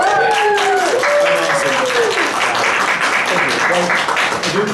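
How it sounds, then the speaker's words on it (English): Crowd applause at a fan convention panel, a steady wash of clapping filling the room, with a voice and a tonal sweep sliding over it near the start. "Round of applause for that"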